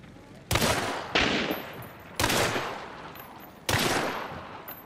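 Gunfire in the Hunt: Showdown game, four sharp loud shots coming singly or in quick pairs, each with a long echoing decay, fairly close and mostly alone.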